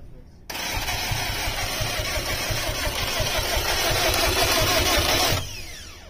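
A car engine fitted with replacement injectors cranks briefly, then catches and runs at a loud, steady rumble for about five seconds before cutting off, with people talking nearby.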